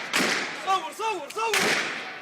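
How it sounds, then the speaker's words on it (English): Two sharp cracks of gunfire ring out in Tripoli, Libya, a second apart, while a voice shouts between them. "Gunfire in Tripoli as the fight for Libya's capital intensifies."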